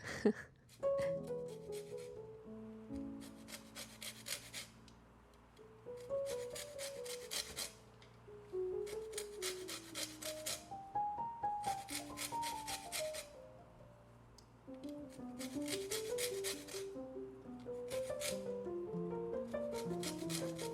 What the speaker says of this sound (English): So right now I'm only zesting 1 lemon